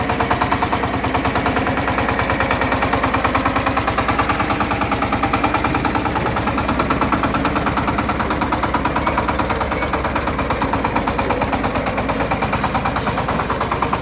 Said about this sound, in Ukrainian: Заїжджаємо на повному приводі.